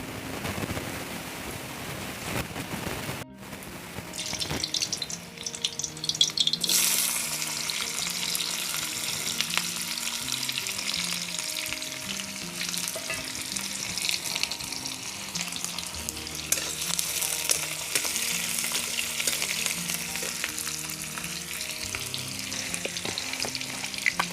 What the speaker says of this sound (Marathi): मी कांदा लसूण आणि लाल तिखट याची फोडणी देणार आहे